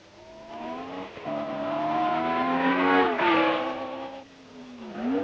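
1962 Formula 1 race cars accelerate hard past the pits in France, engines screaming and rising in pitch, loud and close, with a second car's note joining midway and a fresh surge at the end.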